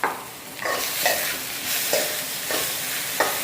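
Tomatoes and fenugreek seeds cooking in butter in a pan, with a steady soft sizzle broken by several close, sharp spoon scrapes as the mixture is stirred. No one speaks.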